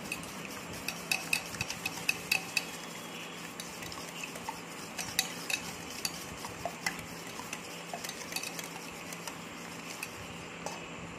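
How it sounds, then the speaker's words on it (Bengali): Eggs seasoned with salt and sugar are whisked briskly in a bowl, a steady rapid clatter of utensil against the dish running throughout at close range, with no voices. "বন্ধুরা দেখুন আমরা ডিমটাকে ভালো করে ফাটিয়ে নিয়েছি।"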